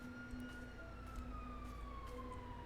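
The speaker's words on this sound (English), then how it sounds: "I hear 2 sets of sirens." Police sirens wail faintly in a roleplay video game, a steady descending siren tone with a second siren layered underneath over low traffic rumble.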